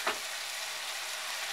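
Tomato chutney fries in a pan with green chillies just added, giving a sharp initial crackle that settles into a continuous, even sizzle, close and without speech.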